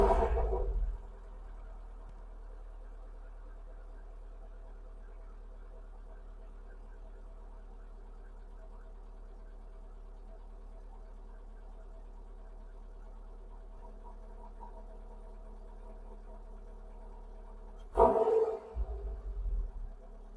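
A rough-running car idles after its O2 sensor and fuel filter were replaced. A steady low engine hum drones evenly for most of the stretch, then a brief louder burst comes near the end.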